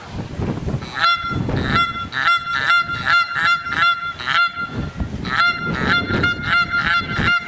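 A flock of Canada geese honks continuously, many overlapping calls in busy bursts, fairly close and loud against outdoor noise in rising wind and hail.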